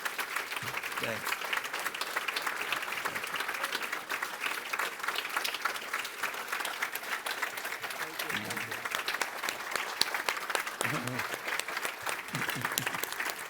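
A panel audience at a Victims of Communism event applauds steadily and fairly loudly for the full stretch, a dense even wash of many hands clapping with some scattered voices mixed in.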